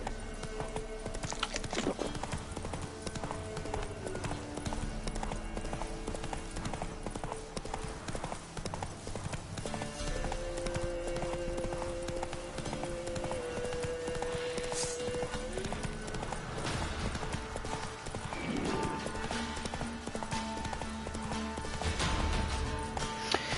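Roach the horse gallops in The Witcher 3, hooves clip-clopping in a rapid, steady rhythm that runs throughout, with game music and ambience underneath and an occasional whinny.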